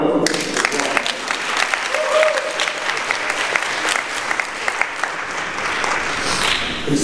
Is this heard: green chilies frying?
no